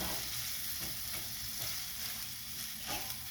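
Chorizo fries in a pan with a steady dense sizzle, while rhythmic tossing and stirring adds soft repeated scraping pulses roughly every half second; close, no talking.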